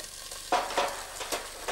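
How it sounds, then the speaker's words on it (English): Kangaroo meat browns in a little olive oil in a hot pan, with a close, crackling sizzle that rises in a few short bursts as it is moved about. "we're going to brown that off. That's colouring nicely now in just a little bit of olive oil I've used."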